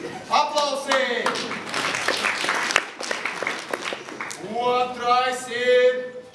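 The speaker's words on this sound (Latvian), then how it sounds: "Aplausi!" Audience applause at a 2012 open drama hour stage show, a steady burst of clapping from a crowd, mixed with a presenter's voice speaking loudly at the start and end.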